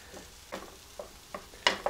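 Butter melting in a hot pan makes a soft, low sizzle, broken by a few light stirring taps and scrapes, before ground meat goes in for a fondue cheeseburger.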